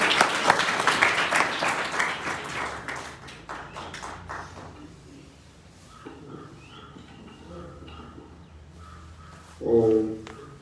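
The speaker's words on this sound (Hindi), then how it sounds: "ताली" Applause from an audience at a gurukul prize-giving ceremony starts loud, thins out and fades within a few seconds, leaving low room noise. A short tonal burst comes near the end.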